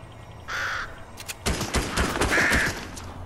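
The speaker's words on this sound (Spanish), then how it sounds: "Cuervo." A crow caws twice in the video game Fortnite, a short call followed by a longer one, the second mixed with bursts of gunfire and game noise.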